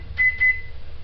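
A microwave oven set on high gives two short, clear electronic beeps over its low, steady running hum, close by.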